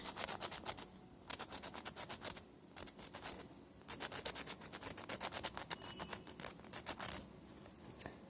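Fingernails being filed into shape, quick close rasping strokes in rapid bursts separated by short pauses, soft and dry with no talk.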